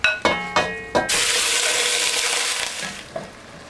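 Ground beef dropped into a hot oiled pan for chili: a few sharp clanks, then a loud steady sizzle that slowly fades, close up with no talking.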